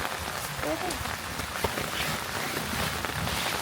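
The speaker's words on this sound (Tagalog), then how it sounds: "Sobrang lakas ng ulan." Heavy rain pours steadily at a mountain ranch in Bukidnon around dinnertime, a dense, unbroken hiss of drops on surfaces, with a brief faint voice-like sound buried in the downpour.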